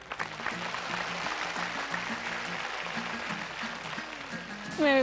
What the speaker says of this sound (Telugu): క్లాప్స్ కొట్టినామా అందరూ?